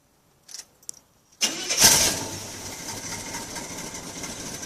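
A few faint clicks, then a truck engine with a lopey cam cranks and catches with a loud burst, settling into a rough, lumpy idle rumble.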